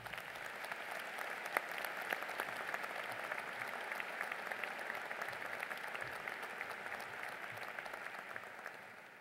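Applause at a 2011 university commencement ceremony, as a large audience welcomes the speaker with steady, even clapping that holds for several seconds and eases slightly at the end.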